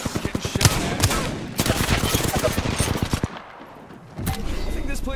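Rapid automatic gunfire in the battle-royale shooter Apex Legends, with loud close bursts of shots that pause briefly before firing resumes.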